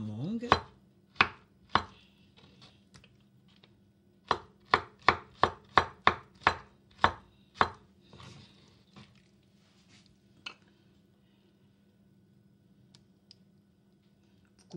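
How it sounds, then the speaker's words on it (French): A knife chops mango into small dice on a cutting board for an exotic fruit salad, giving a run of sharp, close, evenly spaced taps. They bunch into a quick burst in the middle, then thin out to a few scattered cuts. "Couper un tout petit quartier et puis un petit dé."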